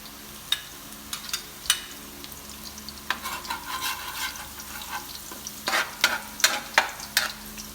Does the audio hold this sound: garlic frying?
yes